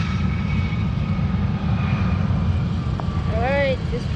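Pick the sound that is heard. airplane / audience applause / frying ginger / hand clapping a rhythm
airplane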